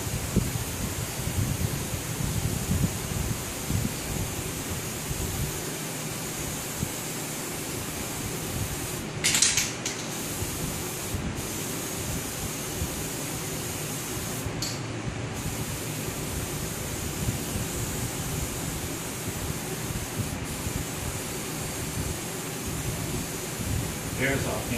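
An aerosol spray can applies an espresso-colored finish to a fireplace mantel during refinishing, producing a steady, close broadband hiss that runs almost the whole time with only brief breaks.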